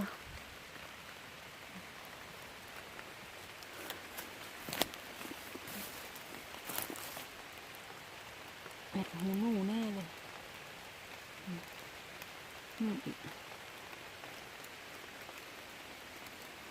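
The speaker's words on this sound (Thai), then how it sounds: "ฝนลงเม็ดฝนลงเม็ดแล้ว" Rain falling during an outdoor walk, a steady soft patter of drops across the whole stretch, with a few louder taps and brief voices and footsteps mixed in.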